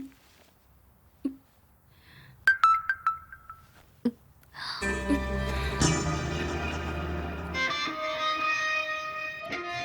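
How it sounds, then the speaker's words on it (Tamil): A WhatsApp message notification on a phone sounds as a short, bright chime amid near silence. Sustained music then swells in and carries on to the end. "வாட்ஸ்அப்ல மெசேஜ் வந்திருக்கு பாரு."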